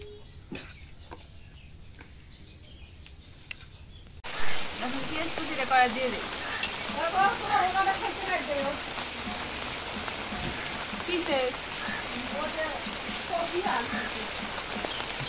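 Rain starts suddenly a few seconds in and then falls steadily on surfaces outdoors. The loud, dense patter continues without a break while people talk over it.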